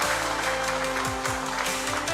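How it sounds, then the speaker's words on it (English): An audience at a business summit panel in Islamabad applauds in a dense, steady roar of clapping that fills the whole moment, with a low hum and faint voices underneath. "Round of applause, please,"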